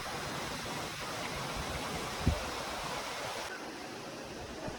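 River water pours over the Kodiveri Dam near Gobichettipalayam in a low flow, making a steady broadband rush of falling water. The noise holds even throughout, with a faint thump near the middle and no clear voices.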